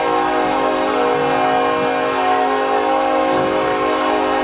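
A passing train sounds its horn in one loud, sustained blast that fills the whole stretch, steady and close, with no voices over it.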